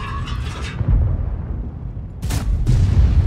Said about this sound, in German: der Schuss war richtig unnötig